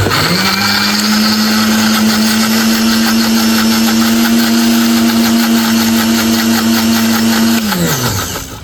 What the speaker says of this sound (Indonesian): Sekarang kita akan blender ya teman-teman sampai halus.